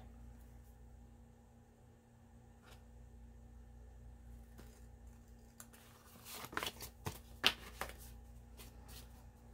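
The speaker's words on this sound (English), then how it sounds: "scissors." A few quick snips of scissors cutting through card, sharp and close, after a quiet stretch with faint handling sounds at a craft desk.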